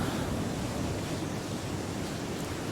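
Steady, broad rushing wind noise in a video game on the cold, windy planet MicroTech, constant and fairly loud throughout, with no gusts standing out and no voices.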